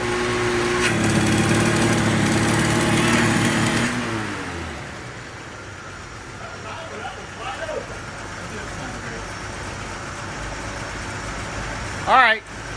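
A 1951 Chevy pickup engine with a freshly rebuilt carburetor rumbles loudly at first, then drops to a quieter steady idle, with people talking over it and a short high squeal near the end.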